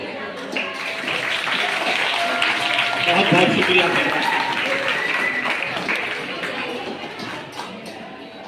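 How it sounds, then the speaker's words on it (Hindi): Loud applause from a school audience welcoming a district education officer at an inauguration, a dense steady wash of clapping throughout, with a voice speaking over it. "जोरदार ताली से"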